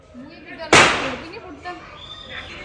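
A single loud firecracker burst goes off close by during festive fireworks, a sharp broadband crack that decays over a second, with people talking around it.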